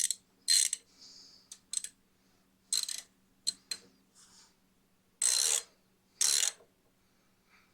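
A ratchet wrench tightens a bolt on a log splitter's engine. Crisp bursts of clicking ratchet strokes come in irregular groups, with quiet gaps between them.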